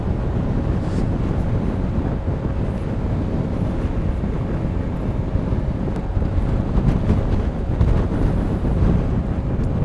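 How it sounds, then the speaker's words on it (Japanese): Steady, loud wind roar buffeting the microphone while riding a Honda Forza MF17 scooter on the Tomei Expressway, mostly headwind, a dense low rumble that continues without a break and with no talk. "正面から来る風は結構うるさいけど"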